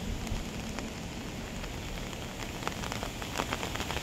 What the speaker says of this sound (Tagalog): Naulan na nga.